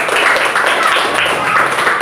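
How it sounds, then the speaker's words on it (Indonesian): A school class applauds group 2 after their presentation, a dense, even patter of many hands clapping close by for about two seconds with no talking. "tepuk tangan dulu buat kelompok 2"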